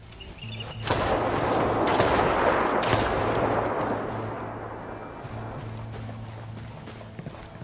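Heavy indirect artillery fire in a military video game: a loud barrage of explosive booms rolls in after a quiet start, with sharp blasts near one and three seconds, then thunderous rumble slowly fades over a low steady engine-like hum.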